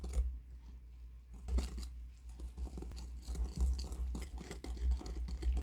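Muffin batter stirred after two cups of cold water are poured in, a steady close-up scraping and sloshing in the bowl with soft irregular strokes and no talking.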